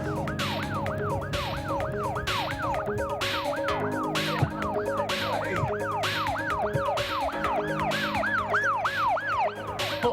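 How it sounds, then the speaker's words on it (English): Wailing siren from a toy rescue vehicle, a steady repeating rising-falling electronic whoop looping continuously at close range and fairly loud throughout, with a low hum underneath. "Turn the siren on."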